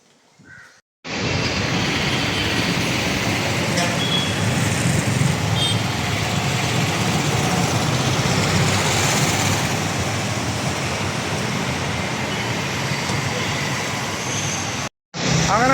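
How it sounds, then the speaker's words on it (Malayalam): A Kallada intercity bus bound for Hyderabad pulls in along a bypass road, a steady broadband engine and road roar holding loud and close for most of the stretch before cutting off briefly near the end. "അങ്ങനെ നമ്മുടെ ബസ് എത്തിയിട്ടാ"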